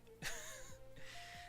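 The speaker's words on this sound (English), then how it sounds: "That was just a yawn." A long, breathy yawn up close, rising into a wavering, voiced moan before trailing off softly.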